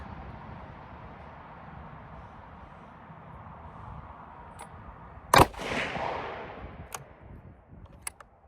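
A single sharp, loud rifle shot from a Bergara rifle firing a Remington Core-Lokt 180 grain round, close by, with a rolling echo fading afterward, followed by a few faint clicks.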